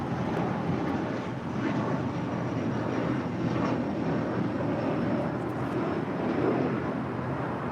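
A jet airliner takes off at LAX. Its engines make a steady, moderately loud roar heard from a distance, mixed with some wind rumble, with no voices.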